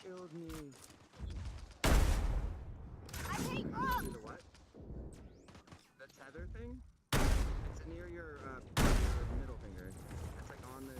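Gunfire in the VR video game Skyfront comes in sharp, loud bursts and rapid volleys, and a person talks over and between the shots.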